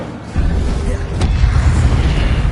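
Incendio fire spell cast in Hogwarts Legacy: after a brief quieter lead-in, a deep whooshing boom of flame erupts and rumbles on, with a second surge partway through, loud and close without speech.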